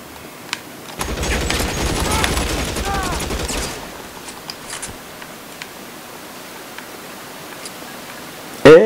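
Gunfire in the video game L.A. Noire erupts as a dense rapid burst lasting a few seconds, then thins to scattered distant pops over faint background noise.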